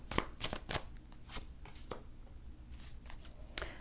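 Tarot cards being shuffled and pulled from the deck, a quick series of close, crisp riffling flicks and slides that come in bursts at an uneven pace, soft and without talk.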